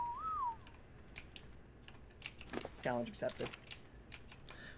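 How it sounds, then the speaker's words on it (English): A loud computer keyboard clatters in quick irregular bursts of close clicks during an Ark Ragnarok game session. A short whistle-like tone sounds near the start and a voice speaks briefly. "since my keyboard's loud"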